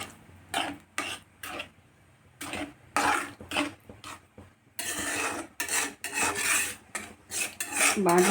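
A spoon scrapes masala off the sides of a steel pan of okra gojju in short, rasping strokes, near and fairly quiet, first spaced apart and then quicker and more continuous, with no voices.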